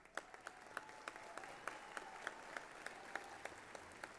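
Applause at a December university commencement ceremony for cum laude graduates, a steady crowd of clapping with a few distinct rhythmic claps standing out, heard faintly from a distance.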